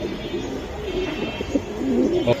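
Pigeons of fancy breeds such as silver giribaz, kept for sale at a pigeon market, coo softly at close range in a few low, rolling calls with no one talking.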